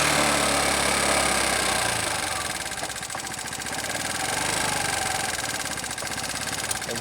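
A motorcycle engine idles steadily up close, a rough rapid pulsing rumble with slight swells in loudness, no voices.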